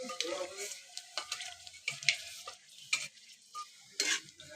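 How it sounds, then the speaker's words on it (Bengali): Dried red chillies and nigella seeds sizzle in hot oil for a Bengali rohu fish curry, giving soft crackles and sputters broken by a few sharp pops and the scrape of a stirring spoon, fairly close and quiet. "শুকনো লঙ্কা আর কালো জিরা ফোড়নে দিয়ে দিলাম।"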